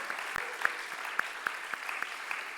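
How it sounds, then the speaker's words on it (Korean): A church youth congregation claps to welcome new twenty-year-old members, a steady patter of many hands, moderately distant and fairly soft, with no talking. "한번 박수로 환영할까요?"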